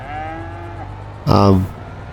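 A cow in the video game No Man's Land lets out one loud, close moo partway through, following a quieter stretch of low game ambience.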